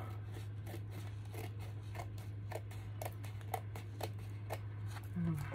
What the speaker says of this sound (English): I'm going to cut this. Trim the edges off.